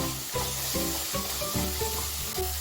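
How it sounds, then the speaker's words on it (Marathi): Cooked dal poured into softened spinach in a hot pan, giving a steady sizzle with soft splashy thuds as the thick lentils land and settle, close and continuous without talk. "आता ही पूर्ण डाळ आपल्याला पालकमध्ये टाकून द्यायची आहे"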